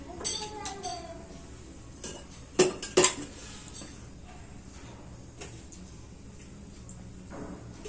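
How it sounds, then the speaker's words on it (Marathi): A metal kadhai set down on a kitchen gas stove, a brief double clank of metal around the middle of the clip, heard among faint kitchen noise while someone talks. "सर्वप्रथम आपण गॅस ऑन करून कढई गरम करायला ठेवूया।"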